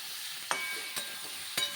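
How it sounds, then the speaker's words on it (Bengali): Three distinct scraping stirs cut through a soft sizzle as a plain cumin, coriander and chili spice paste fries in a pan for bottle gourd and potato dum. "এবার দেখুন ভালো করে নেড়ে চেড়ে আমি মশলাটাকে কষিয়ে নিয়ে"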